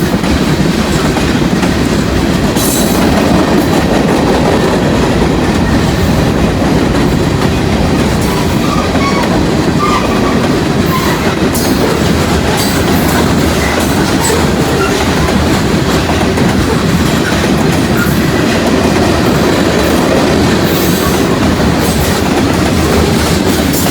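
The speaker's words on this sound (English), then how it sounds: "Long train from Connersville." A long freight train from Connersville rolls past at close range, its loud, continuous rumble and clickety-clack of wheels over rail joints lasting throughout, with occasional metallic squeals.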